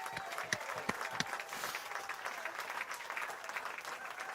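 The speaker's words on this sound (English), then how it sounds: "big applause to all of our panel today" Sustained audience applause for a discussion panel at the close of a podcast show, dense steady clapping throughout with a few sharper individual claps standing out.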